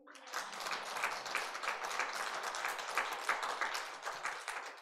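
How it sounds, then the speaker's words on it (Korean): Members of a church congregation at a Sunday service clap warmly together in a steady, rhythmic round of applause that swells in and continues evenly. "감사박수 뜨겁게 하십시다."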